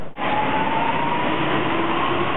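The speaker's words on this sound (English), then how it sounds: "Wait for that train to come." A subway train on a European tour platform rumbles in with a loud steady roar, and a faint rising metallic whine rides over the noise; no voices.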